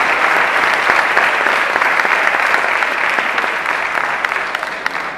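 A gala audience at a sports awards ceremony in Vila Pouca de Aguiar applauds steadily, a dense, loud wash of many hands clapping that holds for several seconds and eases slightly at the end.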